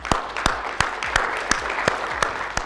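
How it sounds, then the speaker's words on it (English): Clapping at a consulting members' gathering, with a roughly steady rhythm of distinct sharp claps, about three per second, standing out over a softer background of scattered hand claps nearby. "Let's give all these guys a round of applause."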